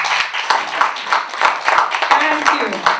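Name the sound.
audience clapping for a panel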